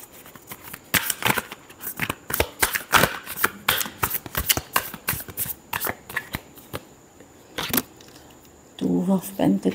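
Tarot cards are shuffled up close in quick, sharp riffling bursts, one after another, with a voice briefly rising near the end.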